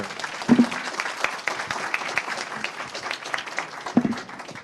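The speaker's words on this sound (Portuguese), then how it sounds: "pedir uma salva de palmas aqui novamente" Audience applauding after a talk at the inovaDay innovation event, a steady wash of clapping at moderate loudness with a couple of heavier thumps and some faint voices mixed in.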